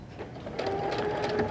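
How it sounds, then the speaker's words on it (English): A sewing machine top stitches along the edge of a fabric casing on a child's garment, a steady close whirring hum that starts softly and then runs loud and even without pause. "I'm going to go ahead and top stitch right along the edge of this casing that we've created"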